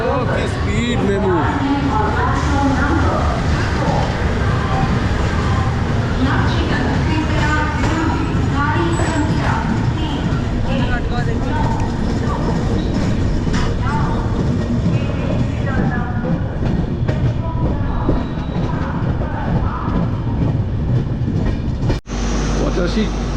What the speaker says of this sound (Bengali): এদিকে মেমু ছেড়ে দিয়েছে।